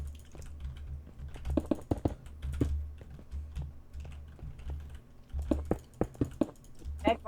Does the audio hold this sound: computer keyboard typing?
yes